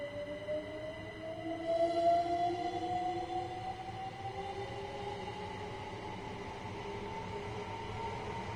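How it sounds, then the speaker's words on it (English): A train rolls past on the left in Train Sim World 5 on a London commuter line, a steady rumble with long, gliding tonal whines that rise and fade over several seconds, with no voices. "I think there's a train that's about to pass us on the left."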